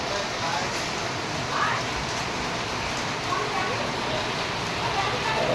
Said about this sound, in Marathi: हा बघा पावसाला सुरुवात झाली